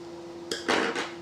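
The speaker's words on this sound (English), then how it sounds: "Now opening the cover here again" Plastic back cover of a PS Vita handheld console being pried open, a couple of short, close clicks and a brief scraping snap over a faint steady hum.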